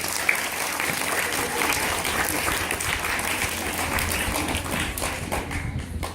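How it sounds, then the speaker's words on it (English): Students in a school gathering applaud for a visiting judge, loud close clapping with some sharper individual claps standing out, sustained throughout and tapering slightly near the end. "let's give her a big round of applause."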